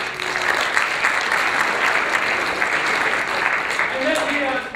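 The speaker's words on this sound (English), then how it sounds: "Let's give her a big round of applause" Loud, dense audience applause fills a school college-bound presentation at Bishop Noll, a steady close roar of clapping from start to finish, with a faint voice underneath.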